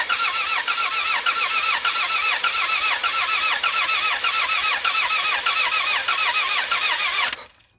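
A high-mileage Toyota Camry engine runs at a steady idle with an uneven, lumpy rhythm from one misfiring cylinder, loud and close with no talk, then cuts off abruptly at the end.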